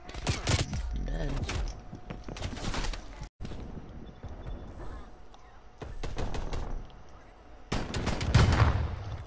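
Shotgun blasts in the Black Ops Cold War video game, several loud, sharp bursts separated by pauses, with game effects and a voice talking in between.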